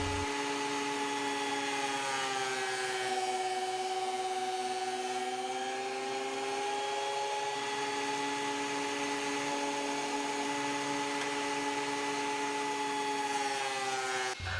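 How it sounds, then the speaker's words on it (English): A thickness planer hums with a steady high-pitched motor whine while boards are fed through at an angle, loud and continuous throughout with a slight dip in pitch as the wood passes. "I'll move over to the planer"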